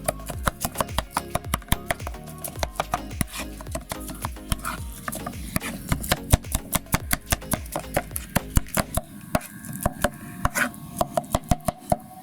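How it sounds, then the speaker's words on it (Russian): A knife chops roasted eggplant for a Turkish restaurant-style appetizer on a board, with rapid, rhythmic close taps that slow toward the end and no voices. "И сейчас мы его берем и начинаем весь рубить."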